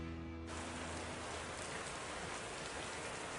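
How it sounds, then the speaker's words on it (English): Heavy downpour outdoors: after a brief moment of quiet hum, a dense, steady hiss of rain pelting surfaces takes over and continues without pause. "But when we're done, a downpour ensues."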